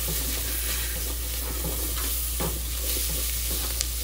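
Peppers and onions fry with dry jerk seasoning in a pan, a constant close sizzle with occasional soft stirring scrapes and no talking.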